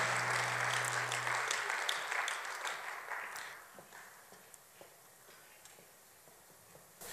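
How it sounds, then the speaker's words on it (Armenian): Church congregation applauding God during a service, a burst of clapping that gradually thins to a few scattered claps and then fades to near quiet. "Եկեք մի հատ էլ ծափարենք մեր Աստծուն"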